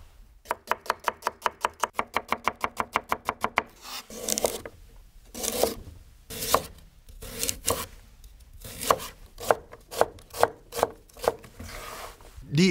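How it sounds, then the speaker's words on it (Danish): Fresh shallots chopped with a knife on a cutting board, first a fast even run of about twenty sharp taps, then slower, heavier rhythmic chops and scraping strokes, loud and close, no voices. "Jeg har hakket skalotteløg, som jeg skal bruge til min bund"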